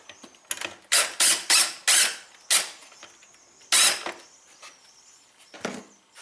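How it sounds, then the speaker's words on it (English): A screw is driven into a wooden subwoofer cabinet panel, several short bursts of a powered driver whirring in quick succession, then a pause and two more bursts, close and loud with no talk. "when I drive this screw, you'll see how tight it'll pull this panel up"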